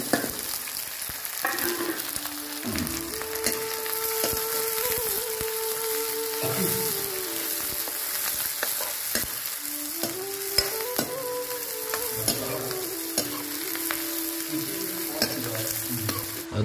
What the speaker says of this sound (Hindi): उसके बाद प्याज और लहसुन दोनों को साथ में डाल रहे हैं अपन यहाँ पे